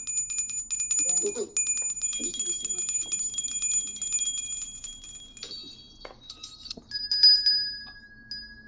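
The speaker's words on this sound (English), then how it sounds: "Those are some pretty pathetic bells" Small hand bells ring and jingle in scattered bursts, with sustained tinkling tones and a few thuds, fairly close and moderately loud.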